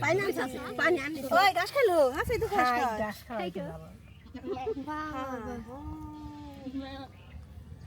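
Goats bleating up close on a small farm, several long wavering cries in quick succession, then a pause and more drawn-out bleats, with faint background voices.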